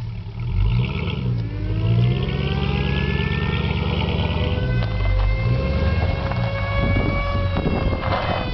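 A Dodge Charger revving hard during a tire burnout, the engine note rising and falling loudly and continuously, with a high whine sweeping upward throughout.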